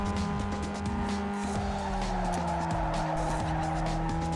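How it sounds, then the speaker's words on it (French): Power slide in the racing game Need for Speed Underground 2: a sustained tire squeal over a steady, droning car engine, continuous and fairly even throughout. "Un power slide hyper perfect."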